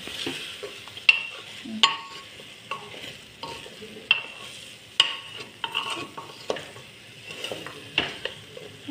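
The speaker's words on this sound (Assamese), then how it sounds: "চব ধুনীয়াকৈ ভাজি লৈছো ঘিখিনিতে।" Ingredients fry in ghee as a spoon stirs them around a pan for a dalia dish, giving a steady soft sizzle broken by frequent sharp scrapes and clinks against the metal, close and clear with no talking.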